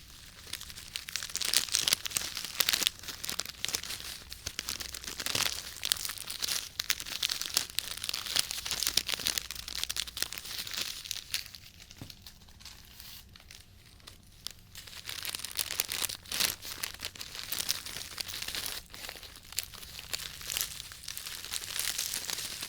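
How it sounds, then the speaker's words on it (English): Dried purple puer tea leaves crinkling in a bag, a continuous close, crisp rustle with sharp crackles and crunches that runs the whole time without a pause. "these purple leaves are what the purple puer leaves look like. Has a nice crinkle to it."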